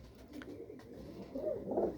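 Pigeons coo softly nearby, a low rolling murmur that swells slightly toward the end against a quiet background.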